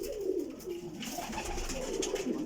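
Pigeons cooing in a loft, several birds making soft repeated throaty coos that overlap steadily at close range with no talking.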